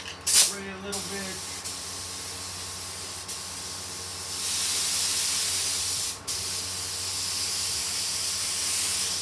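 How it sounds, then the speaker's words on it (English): A spray gun lays candy paint over a metalflake lowrider finish, with a few short hisses early on and then a loud, steady, close hiss running through the second half. "Spray it a little bit."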